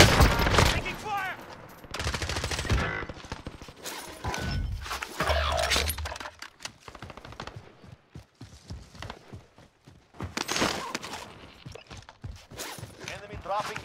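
Gunfire in the game Call of Duty: Warzone, with loud rapid automatic bursts and single shots, heavier early on and then more scattered, mixed with game voice callouts and battle noise.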